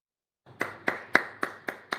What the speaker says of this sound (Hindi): तालियां बजा दो भैया